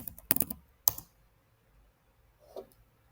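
Quick bursts of keys tapped on a computer keyboard to enter a value, a short cluster of clicks, a single louder click, then near silence with a faint brief sound, no talk.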